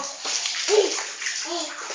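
A small child splashes and sloshes water with a dipper during bathing, making short, close splashes and pours while a voice is briefly heard.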